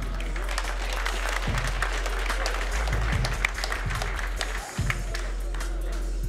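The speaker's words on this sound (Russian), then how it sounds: "аплодисменты боксерам!" Crowd at a boxing event applauding the two boxers after their bout, a sustained wash of clapping over a low hum, with brief voices breaking through.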